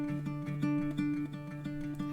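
Acoustic guitar part in 12/8 feel, picked in groups of three, moving from a 5 dominant sus chord to the 5 chord in a song; steady moderate notes with sustained harmonics, no voices.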